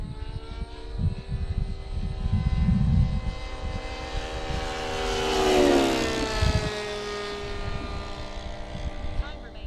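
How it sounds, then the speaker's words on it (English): Mustang propeller aircraft engine in a video game, an old engine droning steadily throughout with a harmonic hum that swells in the middle, close and continuous. "That old engine, I don't know how many freaking hours is on that thing"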